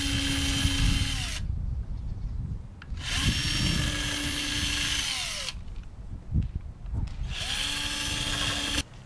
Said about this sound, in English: I have a 17/64 inch bit, and you can easily just drill out the holes.